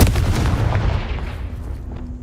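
A Confringo spell blast in Hogwarts Legacy: one loud, deep booming burst that opens the sound and rolls off into a fading rumble over about two seconds.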